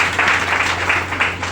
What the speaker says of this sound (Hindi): इसके लिए 2000 तालियां।